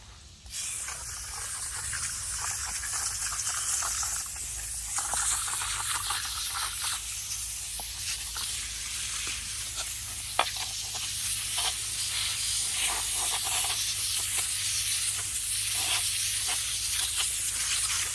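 Compressed air blasts steadily over freshly washed Horton fan parts from a Caterpillar 3406E engine, a loud continuous hiss with slight fluctuations and a brief click partway through, running nearly unbroken for the whole stretch.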